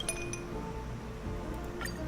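Ice clinks against a mini wine glass while a drink is mixed in Star Rail, a few light glassy taps over a steady low game background.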